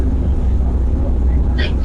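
Big ferry engines on a Port Phillip passenger ferry drone loudly and steadily at close range, a deep constant rumble with a brief higher mechanical whine near the end.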